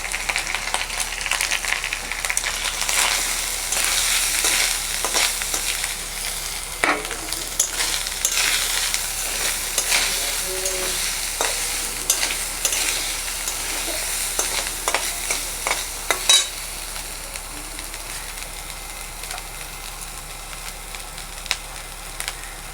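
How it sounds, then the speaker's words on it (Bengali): Grated coconut frying in hot oil gives a steady, dense sizzle and crackle throughout, with occasional scrapes and stirring knocks of a utensil against the pan, close and continuous with no voices. "এই তেলের মধ্যে আমি নারকেলটা ভেজে নেব।"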